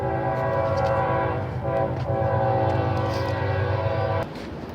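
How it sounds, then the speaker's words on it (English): Train passing close by with its horn blaring in long sustained blasts over the rumble of the cars, loud throughout until it drops off sharply near the end. "you weren't getting blared out with the train"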